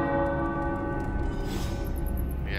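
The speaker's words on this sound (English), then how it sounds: "The tower bells are ringing." Church-like tower bells ring in the video game Marvel's Midnight Suns, a sustained, resonant tolling that hangs loud and steady over faint background game sounds.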